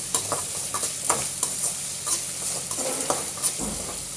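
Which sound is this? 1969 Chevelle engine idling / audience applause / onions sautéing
onions sautéing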